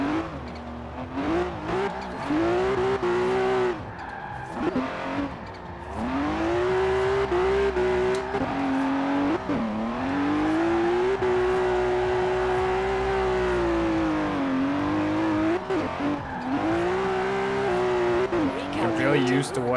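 BMW E34 M5 drift build in Forza Horizon 4, its engine droning steadily throughout with pitch rising and falling as it revs, holds sideways and slides through a drift zone, tire squeal mixed in, loud and continuous.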